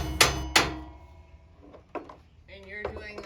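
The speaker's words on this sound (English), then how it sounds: "he's using the puncher, so it'll be easier for him to use the drill, kind of like getting a pre-hole started" A metal center punch is struck against aluminum to start a hole for a shovel and axe tool mount on a Jeep: two sharp, close metallic taps, then softer knocks and handling noise.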